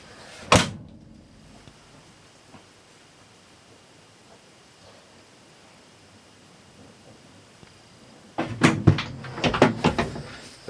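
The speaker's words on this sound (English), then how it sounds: "Close the door and we'll be back over." Door of a 1973 Ford F250 pickup truck during restoration work, one sharp slam near the start, then quiet before a burst of clunks and rattles from nearby handling.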